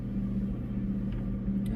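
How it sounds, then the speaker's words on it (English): A steady low engine and road drone fills the cabin of a 2014 Subaru XV Crosstrek while it drives, a constant even rumble with no clear breaks. "Welcome to my 2014 Subaru XV Crosstrek."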